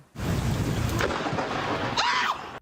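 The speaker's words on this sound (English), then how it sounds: "the harbour disappearing as thunder and lightning took hold" A thunderstorm over Sydney harbour brings a loud crash of thunder over heavy rain, with a second sharp rumble near the end, dense and close throughout.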